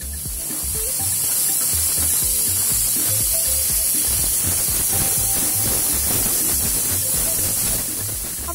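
Chicken egg pola cooks in an oiled pan over a low flame, giving a steady, close sizzling hiss with soft crackles and no voices.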